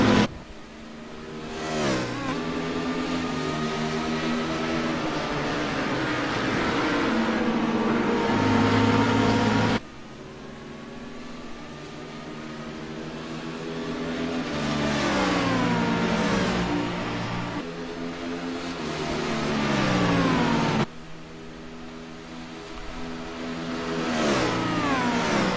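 Race cars in an endurance event at Road America accelerate down the front stretch, several engines rising in pitch one after another in long loud sweeping passes, with abrupt shifts between runs and no talk.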